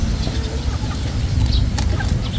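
Chickens cluck underneath, soft scattered calls over a dense, loud low rumble of background noise.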